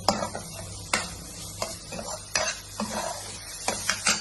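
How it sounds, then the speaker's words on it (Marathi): Onion with a spoonful of ginger-garlic paste sautéing in a pan for a Malvani clam curry, a steady sizzle punctuated by several sharp spoon scrapes and knocks against the pan, close and clear. "आता इकडे कांदो भाजत आहे, आता त्याच्यात घालायची आल्या लसूण पेस्ट 1 चमचा, परतून घ्यायची चांगली"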